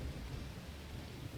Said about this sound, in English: The thunder.